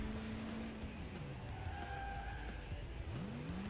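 A video-game car races along the autobahn, its engine droning while the tyres squeal and skid in sliding pitch sweeps, loud and continuous.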